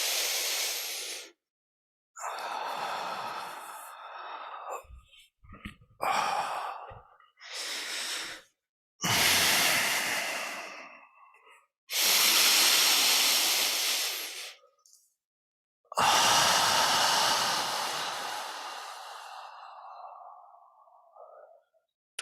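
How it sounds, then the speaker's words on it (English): Slow, deep lower-belly breathing during a somatic meditation session, with long airy inhales and exhales repeating in a steady rhythm, close and fairly loud, with short silent pauses between breaths and no talking. "Maybe you've already started your 12-fold lower belly breathing."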